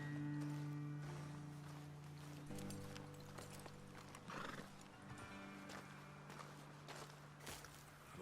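Horses in Red Dead Redemption 2 whinny and snort near a roadside ledge as hooves clip-clop and shuffle, the neighs cutting through a steady low musical drone.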